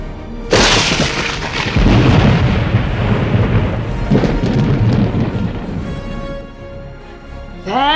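A loud explosion sound effect bursts suddenly and rolls on as a long, rumbling boom with crackling debris, fading gradually over several seconds before a brief squeaky sound at the end.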